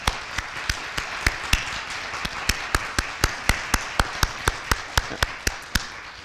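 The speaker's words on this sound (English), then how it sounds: "so we can give them a round of applause" Applause from a conference audience at a welcome session on global hunger, heard as a steady run of fairly close, even claps in a quiet room, with no talking.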